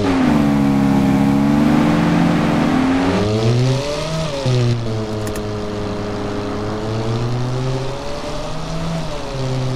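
A Ferrari F40 engine revs loudly in Taxi Sim 2022 in Miami, a strong close roar that climbs and falls through gear changes, then settles into a steadier hum.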